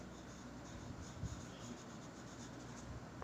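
A word being written during a beginner English grammar lesson, heard as a soft, faint, continuous scratching of the writing stroke with no talking over it.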